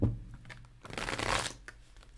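Tarot cards are shuffled briefly up close, a soft riffling flutter rising and fading over a couple of seconds.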